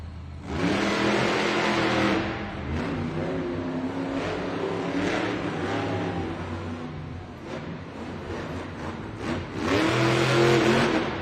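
A Jurassic Attack monster truck races at a Monster Jam arena event in Las Vegas, its engine roaring loudly and steadily with rising revs, swelling again near the end amid a noisy crowd.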